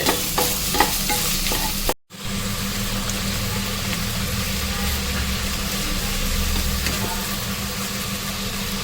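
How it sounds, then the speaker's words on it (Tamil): Oil heats and sizzles in a pan, ready for frying puri, a loud continuous crackle with a brief dropout near the start and then a steady hiss to the end, with no talk. "பக்கத்துல பூரிக்கு எண்ணெய் காய வச்சிருக்கேன்."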